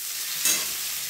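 Chili chicken being stirred and fried in a pan, a short burst of sizzling and scraping peaking midway over a steady background hiss.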